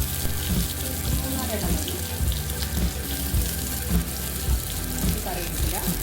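Mustard seeds and chopped shallots fry in hot oil with a steady, dense sizzle and occasional crackles and pops, close and continuous, while a voice speaks briefly.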